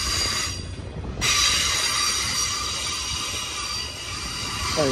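An iron ore freight train rolls past on the outside track, its wheels squealing loudly and steadily over a dense rumble of rail cars, close and continuous for the whole stretch.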